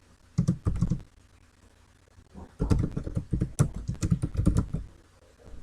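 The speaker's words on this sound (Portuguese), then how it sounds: "Conforme eu vou digitando" Typing on a computer keyboard during a digital culture lesson: a short burst of key clicks, a pause, then a longer run of rapid, close keystrokes with no talk.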